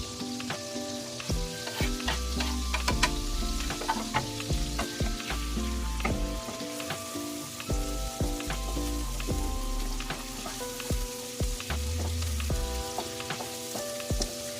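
Garlic frying in a pan for a shrimp dish, a steady loud sizzle with scattered pops and stirring clatter throughout.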